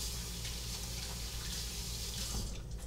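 Kitchen tap water runs steadily into a sink as hands are washed during cooking, a continuous close rushing hiss that stays even before easing slightly at the end.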